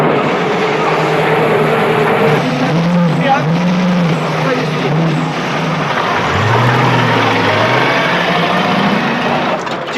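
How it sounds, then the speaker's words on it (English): A race car engine in a paddock garage turns over and tries to fire, giving a loud, rough, steady mechanical drone with pitch swells and a revving rise near the end, while people talk over it. "They're just trying to fire the car now."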